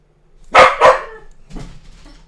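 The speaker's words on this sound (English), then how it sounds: "it's just a dog" A dog gives two sharp, loud barks in quick succession, followed by a softer, shorter bark a moment later, with quiet surroundings between them.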